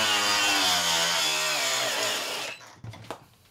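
A cheap angle grinder bought on Amazon whines at a high, steady pitch. Its tone drops and strains as it is pressed down hard under load, then it cuts out into a few faint knocks and clatters.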